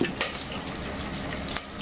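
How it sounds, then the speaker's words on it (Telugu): Curry leaves, dried and green chillies and cumin hit hot oil for a pepper rasam tempering, giving a close, dense crackling sizzle with a few brief spits and utensil clicks. No one speaks. "ఇప్పుడు నూనె కాగిందండి. దీంట్లోకి కరివేపాకు, ఎండుమిర్చి, పచ్చిమిర్చి, జీలకర్ర వేసేస్తున్నానండి."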